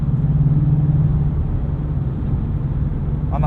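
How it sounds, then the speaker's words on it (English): A 2016 Ford Mustang Shelby GT350 engine drones steadily in a low rumbling hum from inside the car, holding a constant note with no clear rise toward redline. "This motor keeps making power right up until redline cuts power."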